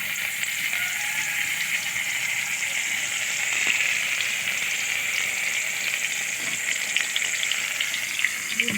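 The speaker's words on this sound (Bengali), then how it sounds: "বেসন দিয়ে লবণ হলুদ লঙ্কা গুঁড়ো দিয়ে মাখা দিয়ে আর ভাজা করছি" Brinjal slices coated in gram flour with salt, turmeric and chilli powder fry in white oil in a wok, giving a steady, close, loud sizzle with occasional pops and no talk.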